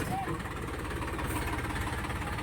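A tractor pulling slowly out of mud gives a steady, low, rhythmic engine chug close by, continuous throughout with someone talking faintly over it.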